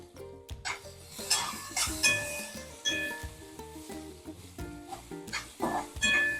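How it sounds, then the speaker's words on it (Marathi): Finely chopped onion with green chillies stirred and sautéed in a pan for onion-potato poha, with repeated spoon scrapes and clinks against the pan and a soft sizzle underneath, close and moderately loud, no talking. "छान परतून घेऊया आपण. मऊ झाला पाहिजे आपला कांदा."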